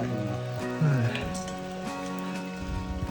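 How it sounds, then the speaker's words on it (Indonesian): Heavy rain pours steadily on a muddy mountain trail during a rainy-season hike on Mount Lawu, a dense continuous hiss filling the foreground, with a brief voice and some faint tonal sound mixed in. "Aduh, hujan udah makin deras."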